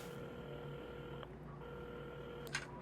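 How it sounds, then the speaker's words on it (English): A phone being dialled in the video game Assemble with Care: a few electronic tones over a steady background hum, followed by a short sharp click near the end. "at the counter, Carmen had started dialing the phone"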